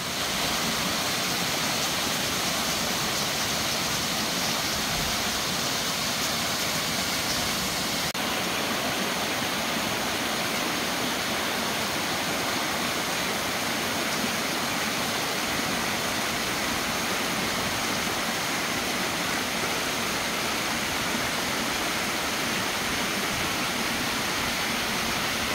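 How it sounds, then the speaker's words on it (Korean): Thawed mountain waterfall in a valley stream below a temple on Juheulsan in early spring, a loud, steady roar of falling and rushing water that fills the whole stretch without a break. "해곡사 아래 곡충곡 계곡의 폭포도 해동이 되어 봄 기운을 품고 요란하게 낙하합니다."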